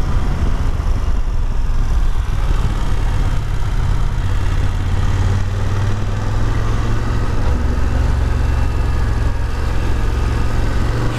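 A BMW F750GS motorcycle leans through curves, its engine a loud, steady, close rumble with a low throb that holds throughout, alongside rushing wind noise.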